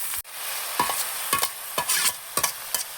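Grated coconut frying in a pan, a steady close sizzle broken by five or six sharp stirring scrapes at a roughly even pace, with no one speaking.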